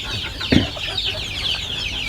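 Free-range KUP-1 village chickens on a farm cluck in short bursts, one sharp louder cluck standing out among softer, scattered calls from nearby birds.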